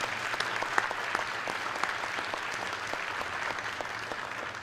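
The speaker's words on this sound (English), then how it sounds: "So let's give them a round of applause." An audience applauding the class of 2010 at a celebration and recognition ceremony, dense steady clapping from many hands filling the room for several seconds.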